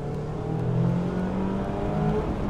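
A 2021 Mazda MX-5 GT Sport Tech sports car driving on a B-road with the roof down, its engine a steady close drone with gentle rises in revs and some wind rush throughout.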